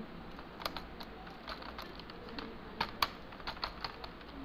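A computer keyboard typed on to enter a cotton shirt product description, with quick irregular key clicks, some louder taps, close and fairly quiet.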